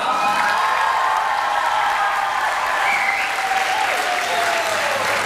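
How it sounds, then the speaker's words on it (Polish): Steady, loud applause from a large audience fills a scouting and hiking song festival gala concert hall, sustained throughout with a faint cheer or whistle rising above the dense clapping. "Zróbcie hałas! Brawa!"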